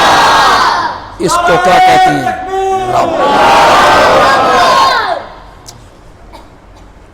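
A large crowd at a religious sermon on Quranic interpretation chants slogans loudly in unison, answering a speaker's brief call, then the roar fades out.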